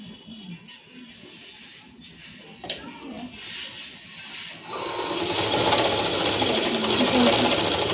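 A sewing machine stitches a boat neck top, starting quiet with a few handling sounds and a voice, then a sustained loud whirring run of stitching.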